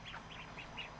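Ducks packed together in a farmyard pen give a quick run of soft, nasal quacks at an even pace with brief gaps between calls, fairly quiet and with no talking.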